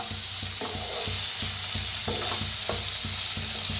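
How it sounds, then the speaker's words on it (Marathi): Onion roasting in a pan, a steady close sizzle with rhythmic stirring strokes scraping the pan about every third of a second, no talk. "आता कांद्याला भाजून घेऊया।"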